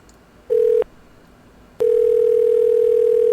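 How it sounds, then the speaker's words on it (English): A conference call phone line sounds a short, steady electronic tone, pauses for about a second, then gives a second, longer tone that holds to the end, clear and close against a quiet background. "you're going to hear the phone go ding-a-ding-dong"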